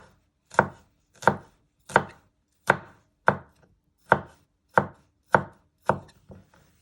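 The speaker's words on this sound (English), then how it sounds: "you first want to place your knife on the top and press it down. And you just want to finely slice it" Garlic sliced finely with a knife on a cutting board, nine crisp evenly spaced chops with brief decays and near silence between them, close and unaccompanied.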